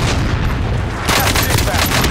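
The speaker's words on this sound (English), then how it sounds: "Cluster strike away." Cluster strike in Call of Duty: Modern Warfare, a dense, continuous roar of overlapping explosions that swells partway through into a harsher, brighter barrage, loud and close throughout.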